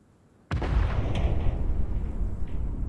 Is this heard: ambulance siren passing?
no